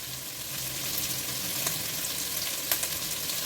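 Pork belly sizzles and fries in a pan with a steady, close, even hiss and a couple of faint pops, no voices over it.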